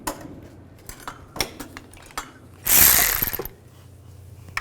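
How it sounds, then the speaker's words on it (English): Socket wrench ratcheting while bolts come off a Nissan Xterra engine during ignition coil replacement, with scattered metallic clicks and a brief quick ratchet burst close by. "Take this one out with a 10mm socket."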